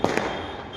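Firecrackers go off close by: two quick sharp bangs in fast succession, followed by a lingering rumble of noise.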